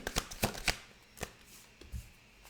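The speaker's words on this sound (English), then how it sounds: "whilst I'm shuffling the rest of the cards" Tarot cards being shuffled in quick riffling bursts, several sharp flutters early on, then a few sparser snaps, close and fairly quiet.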